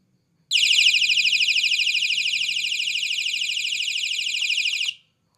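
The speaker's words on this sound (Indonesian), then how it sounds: "untuk mengaktifkan alarmnya, kita tekan di bagian tombol power on off di sebelah kanan ini" A zoom flashlight's built-in alarm: a loud, shrill electronic siren pulses rapidly and steadily for about four seconds indoors, then cuts off abruptly.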